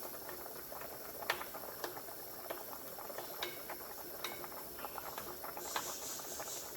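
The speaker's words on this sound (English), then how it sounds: "So I'm going to drain out the oil." Fat from cooked 80-20 ground beef draining off, heard as a faint steady sizzle and patter with scattered small ticks and clicks, fairly quiet throughout.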